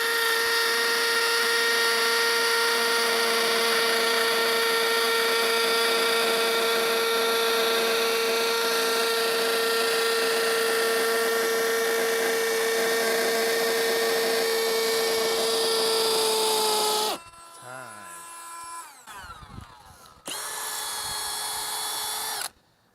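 Milwaukee cordless drill running in hammer-drill mode at speed 2 with a full battery, a loud steady high-pitched whine held for about seventeen seconds, then stopping and briefly restarting, close to the microphone with no talking.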